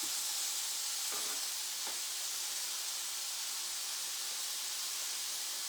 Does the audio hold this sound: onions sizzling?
yes